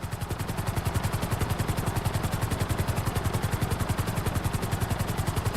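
Helicopter in GTA V flying at full speed, a steady, loud rotor chop with fast, even blade pulses over a constant engine whine throughout.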